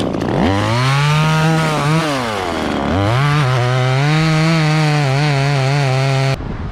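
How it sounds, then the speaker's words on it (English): A NeoTec chainsaw cuts into maple, its engine revving loud and close, surging up and dipping unevenly with the high-rev trouble and bogging down in the cut before it cuts off abruptly at the end. "Oh man, this saw is a little bit funky. Got some high rev issues."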